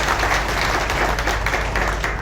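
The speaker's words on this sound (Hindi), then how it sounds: "तालियां बजा के जरा स्वागत करिए" An audience at an event in Indore applauds to welcome Union Minister Arjun Ram Meghwal, a steady wash of crowd clapping over a constant low hum.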